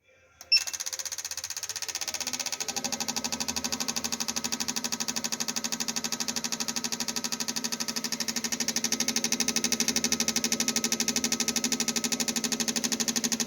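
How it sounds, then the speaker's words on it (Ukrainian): An electric motor whirs on a fuel injector flow test bench while the injectors click in a fast, even rapid-fire pulse, steady and close after a brief start-up. "І так, запускаємо пролівочний тест."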